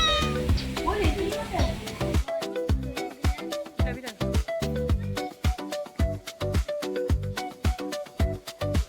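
Cats meow repeatedly at a cat adoption centre attached to a snake and reptile park, loud and close, some drawn-out caterwauling calls overlapping in quick succession with a person talking among them.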